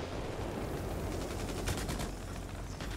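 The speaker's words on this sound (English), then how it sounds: "look, we're on the AA fire" Anti-aircraft fire in World of Warplanes: a dense, continuous barrage of rapid pops and thuds over a constant roaring engine drone, moderately loud and unbroken, with a brief flurry of sharper cracks midway.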